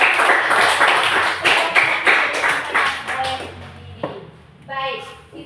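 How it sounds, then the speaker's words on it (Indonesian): A class of students gives a short burst of rhythmic clapping that thins out and fades, with children's voices and a teacher's speech coming in as the clapping ends. "Terima kasih untuk Didi dan tepuk tangan untuk Didi dan"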